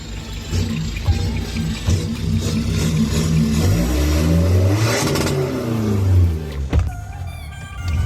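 A remapped 2022 Isuzu D-Max 1.9 diesel pickup with an Ultraboost unit revs repeatedly up to the limiter, its loud engine note climbing and falling in sweeping waves before cutting out abruptly near the end.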